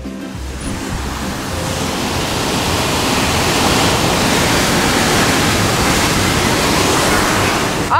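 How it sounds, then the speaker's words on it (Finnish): River rapids (koski) in Kuusamo rush with a loud, steady roar of broadband white water that swells slightly and then holds constant throughout, with no talking heard. "Kattokaa, tuolla taas tuo ihana koski."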